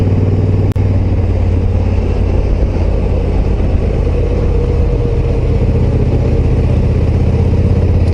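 A Honda Africa Twin Adventure Sports motorcycle on a ride holds a loud, steady engine drone with deep low rumble and constant wind noise, one sharp click near the start, no voices.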